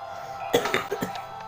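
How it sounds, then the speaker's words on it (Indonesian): A man coughs a few times in quick succession, sharp and close, partway through an otherwise quiet stretch during a mobile game session. "Sorry, gua batuk."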